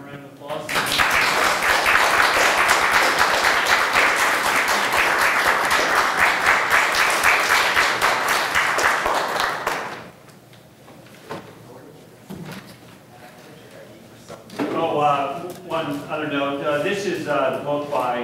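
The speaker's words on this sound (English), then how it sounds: "let's give them a round of applause." An audience applauds after a panel discussion in a lecture hall, a loud sustained round of clapping lasting about ten seconds that cuts off abruptly, followed by quiet shuffling and then a person talking.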